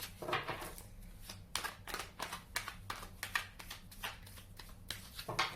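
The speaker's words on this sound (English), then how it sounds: "Look, I'm shuffling. Hand shuffle." Cards are shuffled by hand in quick riffling bursts, soft crisp flutters repeating close up with short pauses between them.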